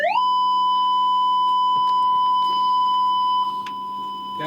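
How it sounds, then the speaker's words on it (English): A steady electronic test beep tone played back from tape holds continuously at a constant pitch, with faint clicks and rustles underneath. "there are my beep tones"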